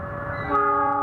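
Argo Bromo Anggrek passenger train sounding a steady, close, multi-tone horn that swells slightly louder partway through, heard alone without talk.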